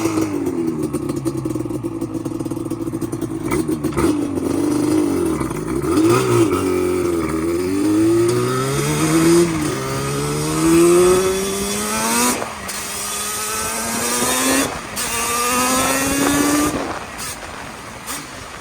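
A Banshee trike's engine revs hard through repeated rising pitch sweeps as it accelerates and shifts, loud and close with wind rush and clatter, no talk.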